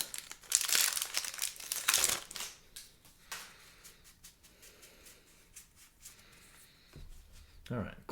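Foil wrapper of a Modern Horizons 3 Magic: The Gathering play booster pack crinkling as it is torn open, with dense, close crackling bursts over the first couple of seconds, then quieter rustling and a brief voice near the end.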